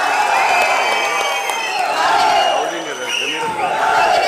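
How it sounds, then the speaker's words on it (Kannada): Crowd at a felicitation ceremony for a prize winner cheers and claps loudly and continuously, with whoops and voices mixed into the sustained roar. "ಅವರಿಗೆ ಹೃದಯ ಪೂರ್ವಕವಾಗಿ ಒಂದು ಜೋರು ಚಪ್ಪಾಳೆಯನ್ನ ಸಲ್ಲಿಸೋಣ"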